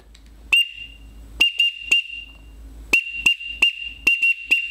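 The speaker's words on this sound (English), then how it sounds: "here is what a teal call sounds like out of the whistle." A teal duck call whistle blown in short, sharp high-pitched peeps, a few single toots and then a quicker series of repeated chirps, loud and close with no talking.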